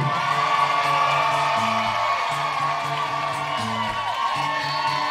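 A dense live crowd at a country concert at Cadillac Ranch in Nashville fills the whole stretch with steady cheering and whooping, loud and continuous, with a low repeating musical pulse running beneath.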